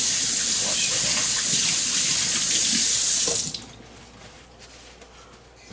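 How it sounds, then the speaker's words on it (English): Running tap water pours steadily into a kitchen sink as hands are washed after handling raw chicken, a loud continuous splash for about three seconds before the flow cuts off to quiet. "Always wash your hands after having meat, any meat."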